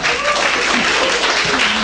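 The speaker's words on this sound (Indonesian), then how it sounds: "Tepuk tangan untuk Ustadz Abu Hilal" Audience at a religious book discussion applauding for a preacher, a brief, dense patter of clapping with voices talking faintly beneath it.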